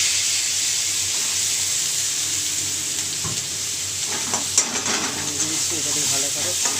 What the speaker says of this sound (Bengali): এবারে ভালো করে কষে নেবো এটাকে দিয়ে। গ্যাসের ফ্লেমটা জোরে করে দিলাম, কষে নেবো।